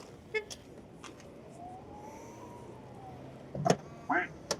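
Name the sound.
car locking with custom duck quack sound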